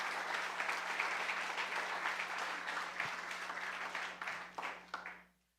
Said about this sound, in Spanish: un aplauso fuerte al Rey de Gloria